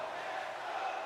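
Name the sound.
hockey crowd in NHL 25 video game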